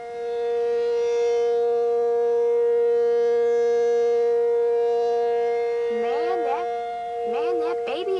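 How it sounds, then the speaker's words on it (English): An Eastman P-50 civil defense siren blares a loud, sustained steady tone with rich harmonics, then winds down and rises again in wavering pitch sweeps near the end. "Yep, it's going off."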